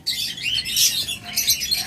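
Small birds at a bird seller's shop, including doves, cockatiels and budgerigars, chirp and tweet in busy, overlapping high-pitched bursts, fairly close and continuous with no talking.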